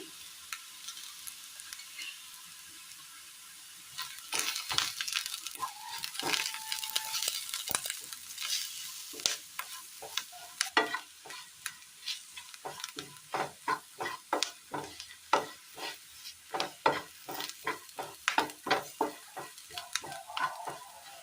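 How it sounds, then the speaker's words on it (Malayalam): Curry leaves and chili powder frying with wilted onions for a pumpkin and ash gourd mezhukkupuratti, a soft sizzle under repeated close scraping stirs of a spoon against the pan, with no talking. "വാടി വന്ന സവോളയിലേക്ക് കറിവേപ്പില ഇട്ട് കൊടുക്കാം മുളക് പൊടി"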